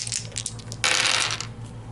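Four dice clatter together during a board game in a close, sharp rattle that lasts about three-quarters of a second, over a low steady hum with a few lighter ticks before it.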